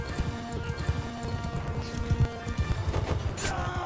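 Horse hooves gallop in Mount & Blade II: Bannerlord during a kingdom battle, a steady busy clatter of hoofbeats mixed with battle noise and faint background sounds throughout.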